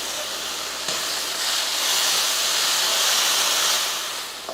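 Curry leaves, dried red chilli, chana dal and ground paste sizzle in hot oil in a pan, a steady loud frying hiss lasting throughout with a slight swell in the middle.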